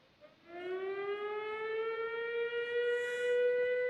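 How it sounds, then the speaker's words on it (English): A tornado siren wails steadily, its pitch rising slowly and holding as a long continuous drone, clear and unaccompanied by voices. "that sounds like a tornado siren"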